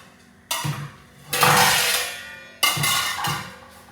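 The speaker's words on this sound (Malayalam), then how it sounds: "നമുക്ക് ഈ അടുപ്പിലേക്ക് മീൻ വറുക്കാനുള്ള ചട്ടി വെച്ച് കൊടുത്തിട്ടുണ്ട്" A metal frying pan for fish is set down onto a stove, producing a few close clanks and scraping knocks with a ringing metallic tail.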